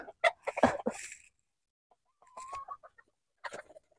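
Close chicken clucks and squawks in short bursts, with pauses between, one loud cluster at the start and a few quieter calls after.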